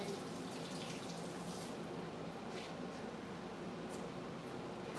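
Tap water runs steadily into a kitchen sink as a knife is rinsed, a continuous hiss of flowing water close by that lasts the whole stretch without pause.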